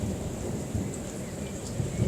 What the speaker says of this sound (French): C'est le premier orage de l'année 2019.